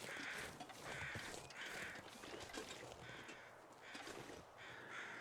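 Crows caw in the game The Long Dark, sounding faint and somewhat distant as about six harsh calls repeat in an even rhythm over a quiet wind-like hiss.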